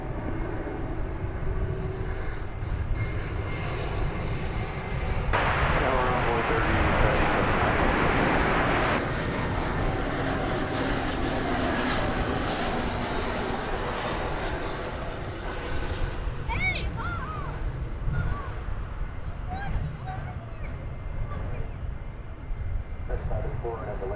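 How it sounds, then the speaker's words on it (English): A large American Airlines passenger jet on landing approach at Dallas Fort Worth International Airport, a loud, steady broadband jet roar that swells for several seconds mid-clip and then eases, with talk over it throughout. "the plane that's coming in over the shoulders of all these fine folks is American Flight 2366 from San Diego"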